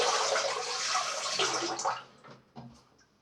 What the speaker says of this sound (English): Give it a rinse and a shake.